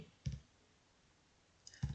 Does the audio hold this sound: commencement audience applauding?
no